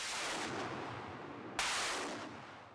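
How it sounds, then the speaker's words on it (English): Soviet-era Grad multiple rocket launcher firing in the Donetsk region, a loud sustained roaring rush of launches with a sharp fresh blast near the middle, heard alone without voices. "Ukrainian soldiers in the Donetsk region are seen operating this Soviet-era Grad rocket system."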